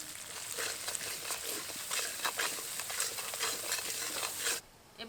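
Spice paste frying in oil with salt, turmeric and Kashmiri chili powder while being stirred for a Bengali hilsa dish, a close steady sizzle with scraping stir strokes that stops abruptly near the end, no talk.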